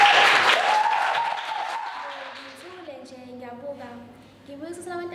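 A poetry session audience claps loudly for a performing poet, and the applause fades as a voice begins speaking over the last of the clapping.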